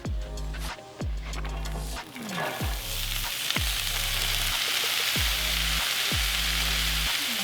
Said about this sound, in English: we'll hit the griddle with some oil and then we'll color up